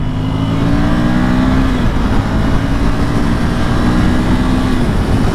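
A 2020 Ducati Monster 797+ on Pirelli Rosso tires cruising uphill in sixth gear at about 80, with a loud, steady engine drone and rumble mixed with wind noise and a slight pitch shift midway.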